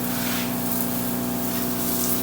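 A 12V car pressure washer sprays water in a steady, loud, continuous hiss with a constant pump hum underneath, close by and unbroken.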